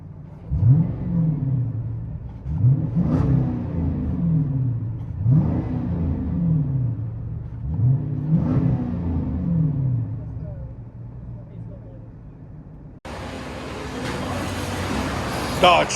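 A 2010 Dodge Challenger R/T with a 5.7 HEMI V8, dual exhaust and mid muffler delete, heard from inside the car as several deep, rumbling revs rise and fall in a steady rhythm.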